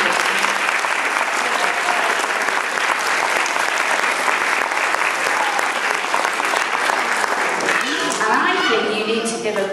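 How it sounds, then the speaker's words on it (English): An audience of parents and children at a school nativity play gives steady, loud applause throughout, with voices rising faintly over the clapping near the end. "so a huge clap for Mrs."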